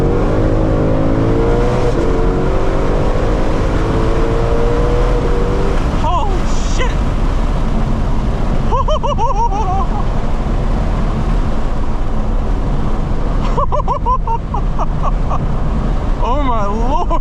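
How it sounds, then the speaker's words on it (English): A Ford Mustang Shelby GT500 with a dual-clutch transmission accelerates hard, its engine rising in pitch through several quick gear shifts. The revving is loud and close, with wind and road roar underneath and occasional bursts of excited shouting. "Oof, the sound is awesome. Perfect shifting with the DCT."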